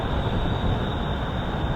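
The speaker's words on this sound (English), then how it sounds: "So here's our electric train." Bangkok SkyTrain electric train passing below, a steady broadband rumble and rail roar holding constant throughout with a faint high whine, no voices.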